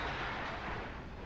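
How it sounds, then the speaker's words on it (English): Artillery fire in the WARNO real-time strategy game, heard as a dense, continuous low rumble of distant blasts with no voices. "Artillery firing."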